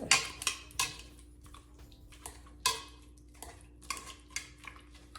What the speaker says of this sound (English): I'm going old school with my potato masher